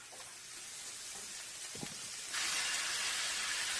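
Saag greens land in a hot pan of oil and cumin for a Nepali potato curry, and the steady frying hiss jumps to a louder, fuller sizzle partway through, with a faint clink of stirring before it.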